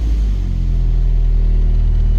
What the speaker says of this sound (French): On va démarrer la voiture.